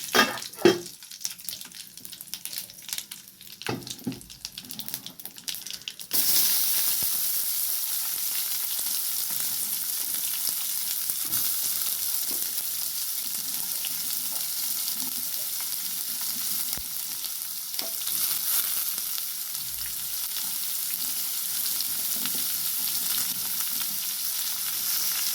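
Mustard seeds and chopped onion fry in hot oil for a Tamil-style fish mittah salan, a few sharp spatters and stirring at first, then a loud, steady sizzle that carries on unbroken and close.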